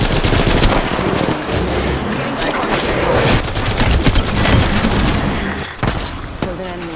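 Rapid gunfire bursts and booms in an Apex Legends Shadow Royale match, sustained and loud across the whole stretch, with a voice talking over the shooting.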